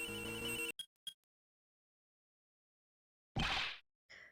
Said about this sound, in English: Mine is also ringing.